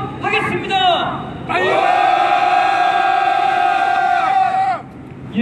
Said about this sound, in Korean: 동지 여러분들의 뜨거운 규탄과 분노를 담은 함성으로 시작하도록 하겠습니다.